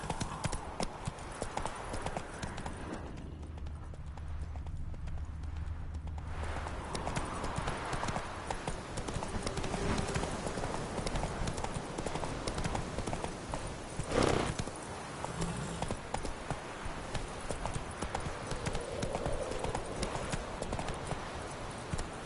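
Roach, the horse in The Witcher game, gallops in a steady rapid clip-clop of hooves that runs almost the whole time, close and moderately loud, with a brief pause and a short thud partway through.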